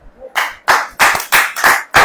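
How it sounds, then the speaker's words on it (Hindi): A congregation at a church sermon claps hands together in loud, sharp bursts, about six rhythmic claps in unison, close and clear. "ताली बजाओ।"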